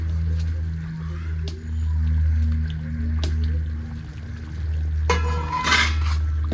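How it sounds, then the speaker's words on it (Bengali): Fish pieces slide into a simmering poppy seed gravy in a kadai, bringing a burst of sizzle and bubbling late on over a steady low stove hum. "এবার আমি মাছগুলো দিয়ে দেবো"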